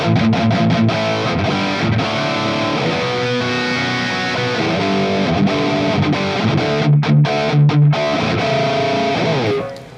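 Mesa Boogie JP-2C guitar amp with shred mode off, playing a loud, steady stretch of distorted electric guitar with sustained chords and riffs over about ten seconds, fading out at the end.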